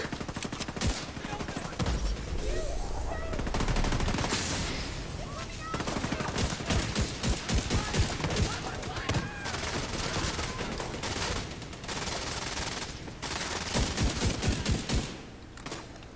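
Rapid rifle gunfire in The Division 2, dense bursts of shots with brief pauses across the whole stretch, loud and close, with faint voice in places.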